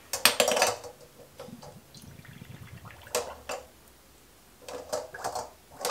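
Glass bottles clink and knock against the inside of a small pot of water, a few sharp clustered rattles early on, then scattered taps and two more bursts of clattering later, close and moderately loud with no talk.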